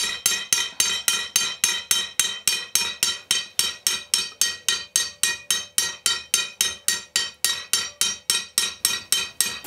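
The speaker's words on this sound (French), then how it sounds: "pour bien séparer le verre de la tige, frappe la tige avec un marteau" A glassmaker strikes a metal rod with a hammer to separate the glass, rapid steady strikes about three per second, bright and clinking with a glassy edge, close and continuous.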